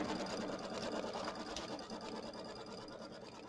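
A sewing machine stitches the tack-down on a mini quilt's background fabric, a rapid continuous mechanical whirr and patter, close and steady throughout, with no talking.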